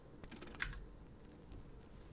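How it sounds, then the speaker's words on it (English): Typing on a computer keyboard during a coding livestream, a quiet run of soft key clicks with one sharper tap, fairly close and low in level. "If I could use my keyboard."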